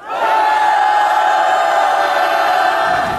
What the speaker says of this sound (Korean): 우리 힘내시라고 다 같이 함성 5초간 보내드리겠습니다